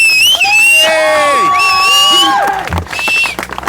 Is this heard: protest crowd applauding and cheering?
yes